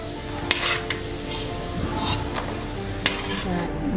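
Pasta pieces dropped into very hot, bubbling cooking oil to deep-fry into a crispy snack, a steady close sizzle with a few sharp clinks and stirring knocks from the pan.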